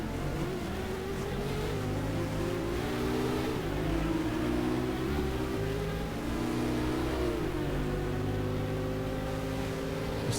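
Race car engines in the GTR2 racing game at Suzuka drone loudly and continuously, with layered tones rising and shifting as cars accelerate and change gear, close and unbroken without talk.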